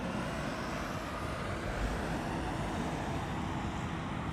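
Business jet at Amsterdam Schiphol Airport, a faint, steady distant engine roar holding evenly throughout without any clear rise or fall.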